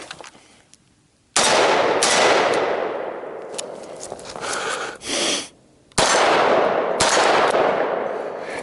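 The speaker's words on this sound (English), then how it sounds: "I'm shooting full power M193. This is Brazilian M193, high quality, very good stuff." A rifle fires full-power Brazilian M193 ammunition at steel gongs: several loud, sharp close-range shots, each followed by a long ringing decay, with a quieter gap in between.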